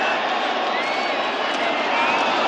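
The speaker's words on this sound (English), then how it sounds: "Crowd now back in it." A large football stadium crowd roars in a broad continuous wash of cheering at a 1985 Cowboys at Giants game, loud and sustained, with no pause.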